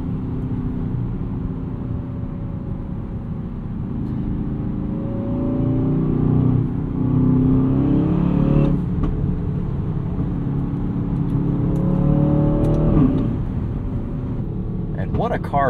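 A 2024 Aston Martin DBX 707 SUV's deep, throaty 697hp AMG engine idles and revs up in rising swells, the exhaust rumbling steadily under occasional clicks inside the vehicle.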